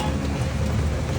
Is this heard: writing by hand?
no